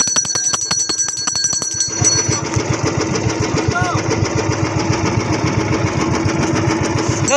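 A small boat engine chugs steadily while the boat runs through shallow, rocky water during fish feeding. A high ringing tone sounds over the motor at first, and voices talk nearby throughout.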